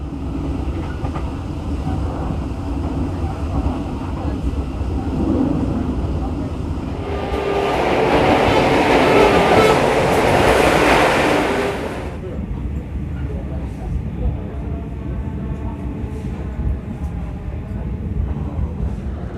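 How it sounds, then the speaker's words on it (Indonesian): Kahuripan passenger train behind a locomotive in vintage 1980s PJKA livery arriving at Purwosari station, a loud continuous rumble and rolling clatter that swells midway as the cars pass close, then eases into a steadier drone. "Kereta api Kahuripan sudah merapat di jalur 2 stasiun Purwosari."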